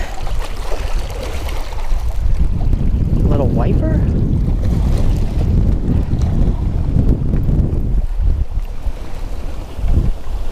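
Strong wind buffets the microphone on open water from a fishing boat, a loud continuous rumble and roar while a voice speaks briefly in the middle.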